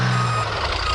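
Steady electronic beeping from a toy crane in a cartoon as it starts operating, a loud sustained tone over a low mechanical hum.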